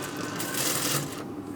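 A sewing machine runs a straight seam along a kurta, a steady close mechanical whir and rattle that swells in the middle and eases toward the end, with no voices.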